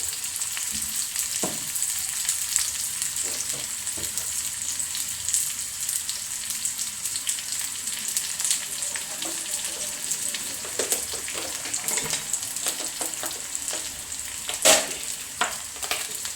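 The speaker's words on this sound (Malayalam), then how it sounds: "ഇത് നമുക്ക് ഉള്ളി ഇട്ട് കൊടുക്കാം കേട്ടോ. ഉള്ളി മൊരിയുമ്പോഴത്തേക്കും ഉണക്കമുളക് ചതച്ചിട്ട് കൊടുക്കാം." Onions and crushed dried chilies fry in a hot pan, giving a continuous close sizzle dotted with sharp crackles and the occasional scrape of stirring.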